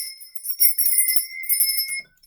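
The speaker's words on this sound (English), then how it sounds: "Now I'm going to ring my lovely lady bell." A small hand bell rung in repeated bursts of bright, high metallic tinkling, close and clear for about two seconds before fading out, with no talking.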